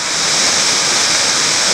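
Bandy Creek Falls, a 45-foot waterfall in a deep canyon at Big South Fork, Tennessee, roars as a loud, unbroken wash of falling water, close and filling the whole moment.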